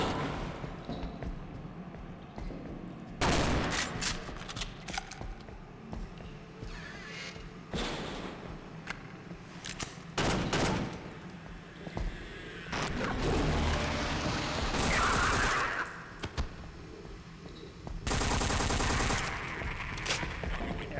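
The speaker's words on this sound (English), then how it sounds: "SMG is so much better with the suppressor." Suppressed SMG fire in Half-Life, several bursts of rapid automatic shots in the foreground, separated by short quieter gaps.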